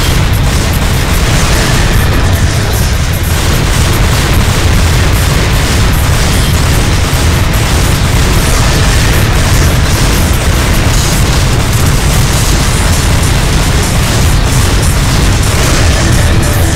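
Pistols blazing in the Devil May Cry 2 PS2 game, heard as a dense, loud, continuous barrage of booming shots mixed with game noise, with no pauses across the whole stretch.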